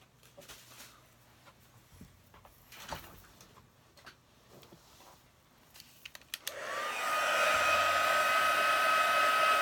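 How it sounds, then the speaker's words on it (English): A heat gun switches on partway through to dry stamped acrylic, shifting from quiet handling noises into a loud, steady blowing whine that holds to the end. "So I'm going to use my heat gun."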